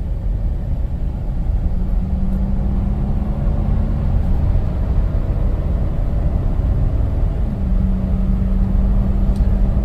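Inside a Lexus LX470 SUV cruising on the road, a low, even rumble of road and tire noise fills the cabin. A faint steady engine hum sits underneath, with no knocks or whines and no voices.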